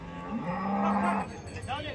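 A cow gives a single loud, close moo lasting over a second at a busy cattle market selling HF breed cows in Chalisgaon, with market chatter faintly behind.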